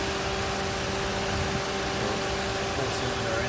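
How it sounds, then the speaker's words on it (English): A 2017 Toyota Corolla hatchback's four-cylinder engine idles with a steady, even hum and a faint constant whine, heard close up under the open hood with no change in pitch. "Four cylinder engine there."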